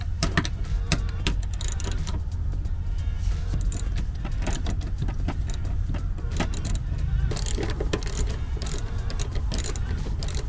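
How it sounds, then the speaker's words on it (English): Wrench loosening nuts on a Honda CR-V backseat mount, with steady close metallic ratcheting clicks and clinks repeating rapidly over a low background hum inside the vehicle. "we're going to use a wrench to loosen these two nuts here"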